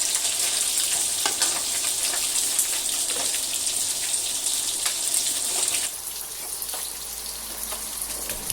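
Small climbing perch fish frying in a pan, a steady bright sizzle with scattered pops and spatters, easing slightly in level partway through, no voices.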